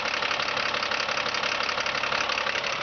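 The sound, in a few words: idling diesel engine of GMC Top Kick C7500 bucket truck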